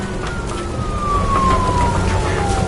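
Police car siren in a video game, a steady wailing tone sweeping slowly downward over a busy mix of game noise and engine rumble, with speech faintly present.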